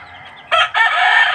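A three-month-old Sweater Kelso gamefowl rooster crows once, loud and close, a short broken call that breaks off briefly and resumes, heard alone without talk.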